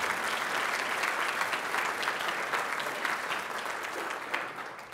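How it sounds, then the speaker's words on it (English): A banquet audience at a city State of the City address applauds the hotel staff with steady, full, sustained clapping that fills the whole stretch without pause. "let's give a round of applause to the staff of the Marriott"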